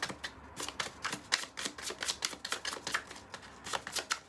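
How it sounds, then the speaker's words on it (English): Tarot cards being shuffled by hand, a steady run of crisp riffling flicks and slaps close up, alone without any talking. "I am going to shuffle one more time."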